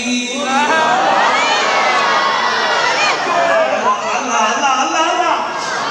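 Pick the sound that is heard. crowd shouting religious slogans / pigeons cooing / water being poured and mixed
crowd shouting religious slogans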